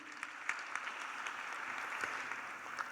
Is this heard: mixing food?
no